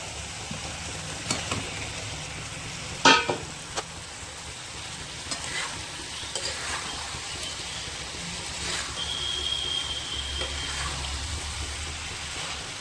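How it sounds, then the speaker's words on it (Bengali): Fried potatoes go into a pan of cooked spice masala for Kashmiri aloo dum and get stirred, with a soft continuous sizzle, a sharp clunk of utensil on pan early on and scattered scraping stirs. "এর মধ্যে দিয়ে দেবো আমি ভেজে রাখা আলু।"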